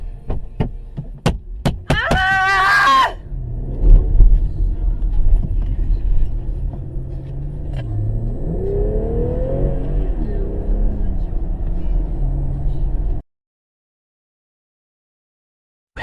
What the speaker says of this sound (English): Panic-stricken, she floored the accelerator and escaped.